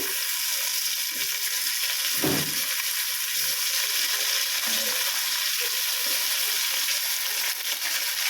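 Cut tomatoes and ginger-garlic paste frying in a pan, a steady close hiss of sizzling oil throughout with a brief louder burst of stirring or scraping partway through; no talking.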